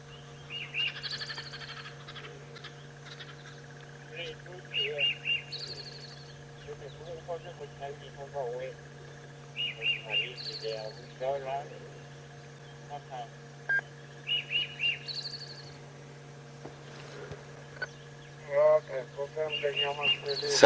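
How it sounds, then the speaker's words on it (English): Recorded robin call played back: short bright chirps and phrases repeating in bursts over a steady low hum, with talk intermittently alongside. "Now I will play you what the robin sounds like."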